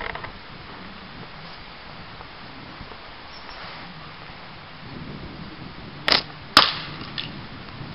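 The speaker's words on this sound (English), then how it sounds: "shooting at a 6x4 inch tile here from 50 paces, so a fair old distance away, using my aluminium catapult" An aluminium catapult fires 25mm steel balls at a 6x4 inch tile fifty paces away, giving faint mechanical rustling and then two sharp, distant cracking impacts in quick succession.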